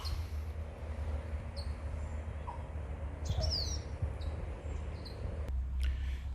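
Scattered bird calls in an Australian tropical rainforest at a Cairns fruit park, a few brief chirps and whistles spaced apart over low background rumble, faint and distant.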